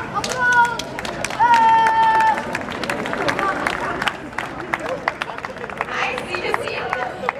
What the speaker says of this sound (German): Applaus, Applaus,